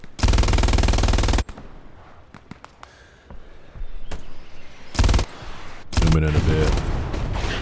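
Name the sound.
machine gun fire in video game Hell Let Loose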